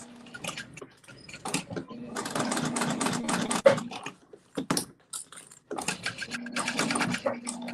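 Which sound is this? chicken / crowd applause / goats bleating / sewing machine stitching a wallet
sewing machine stitching a wallet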